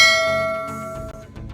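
A single bright bell ding rings out loud and clear, then decays over about a second.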